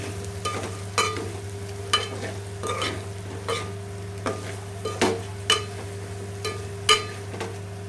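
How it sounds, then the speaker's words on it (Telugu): Chicken pieces stirred in a pan with coconut chili powder and coriander powder for an Andhra chicken fry, a soft sizzle under regular scraping strokes of a spoon roughly every second, close and moderately loud. "కొబ్బరి కారం, ధనియాల పొడి అన్నీ వేసి అంతా ముక్కలకి బాగా పట్టేటట్టు ఇలా కలుపుకోవాలి."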